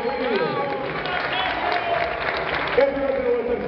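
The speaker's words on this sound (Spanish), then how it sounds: "Aplauso, sea bienvenido." Audience applause greeting a guest at a regional meeting of health promoters in Cabo de Fuerte, steady clapping from a crowd with voices and cheers mixed in throughout.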